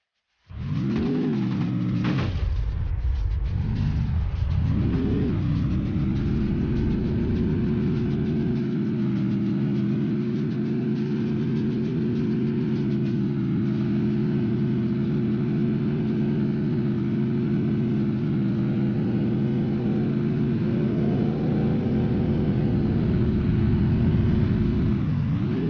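A motorbike is ridden in the Free Fire mobile game, its engine droning steadily and loud for the whole stretch, rising and dipping in pitch a few times early on and near the end, with no talk.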